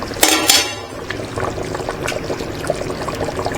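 Water is poured into a pot of tomato biryani being cooked for a Deepavali feast, a short splashing pour near the start followed by soft bubbling and faint clinks of cookware.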